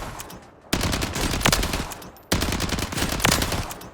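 Automatic weapon fire on the Warzone firing range in a video game, two loud sustained bursts of rapid shots, each lasting over a second, separated by a brief pause.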